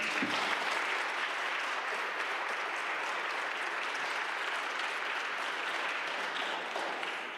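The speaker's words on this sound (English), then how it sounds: "Please give yourself a round of applause." A council swearing-in ceremony audience applauds steadily, a dense, even wash of many hands clapping that holds at full strength for the whole stretch before easing slightly at the end.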